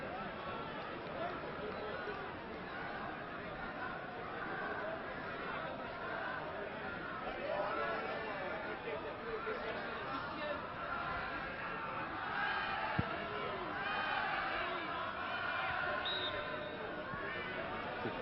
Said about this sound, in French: les spectateurs applaudissent et encouragent une équipe de France